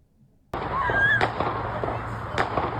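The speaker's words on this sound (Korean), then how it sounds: "교내에 총성이 울리자 학생들이 놀라 달아납니다." Gunfire on a Florida State University campus during a shooting, heard as sharp cracks, one at the start and several more in the next two seconds, over a burst of background noise and voices.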